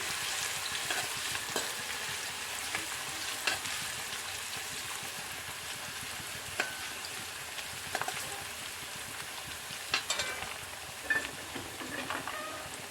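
Chopped ginger, garlic and green chilli sizzle steadily in a hot pan while cooking beef liver fry, with a continuous crackling hiss broken by occasional louder pops and stirring clicks, close and moderately loud with no talking.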